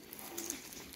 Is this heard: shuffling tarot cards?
no